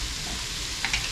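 Onions sizzling in a pan for a jellyfish soup, a steady bright hiss with a couple of brief clicks from stirring near the end.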